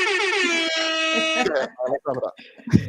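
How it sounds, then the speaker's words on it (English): A single loud, sustained air horn blast sounds for about a second and a half, followed right away by a person talking. "I think I'm going to do an air horn for everyone and anyone but the Team USA"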